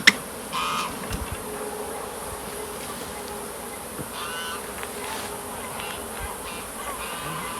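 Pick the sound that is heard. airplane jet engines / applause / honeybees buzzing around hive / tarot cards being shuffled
honeybees buzzing around hive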